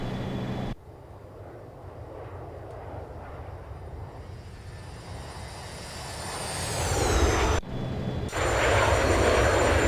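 A simulated airliner in X-Plane 11 drones past in a flyby, engine roar swelling with a rising whine before cutting abruptly and returning louder, steady and unbroken by talk.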